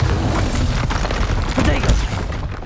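Confringo and Bombarda spell blasts in Hogwarts Legacy erupt as loud, dense booms and crackling impacts, rapid and overlapping in a continuous battle barrage.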